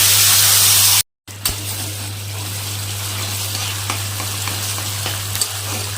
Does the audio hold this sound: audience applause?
no